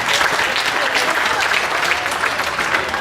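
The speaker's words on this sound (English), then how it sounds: "Give them a big round of applause." A crowd at the John C. Fremont Days festival in Fremont, Nebraska, applauds loudly and continuously, a dense, steady wash of clapping with no break.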